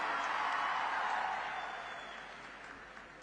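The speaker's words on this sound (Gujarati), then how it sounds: "જોરદાર તાળીઓ સાથે આપણે પણ આદરણીય પ્રધાનમંત્રી શ્રીને આવકારીએ" A large crowd at a Prime Minister Modi rally in Bodeli applauds to welcome him, a broad, dense wash of clapping that is loud at first and slowly fades.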